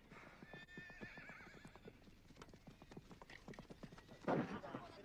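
A herd of horses gallops past in a steady rapid clatter of hooves, with a whinny breaking out near the end, moderately loud and outdoors.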